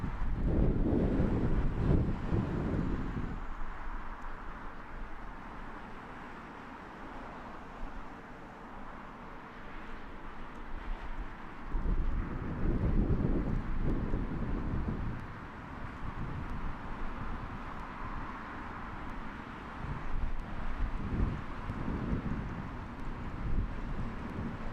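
Strong wind roars and buffets the microphone steadily throughout at Heathrow Airport, with louder gusts rising and falling, and no voices present.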